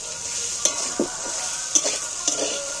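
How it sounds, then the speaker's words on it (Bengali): Okra (ladies' finger) frying in a pan with fried onions, a soft continuous sizzle broken by several distinct scraping stirs of a spatula, close and clear, with no talking. "এইবার আমি আবারও বেশ খানিকটা ভাজবো।"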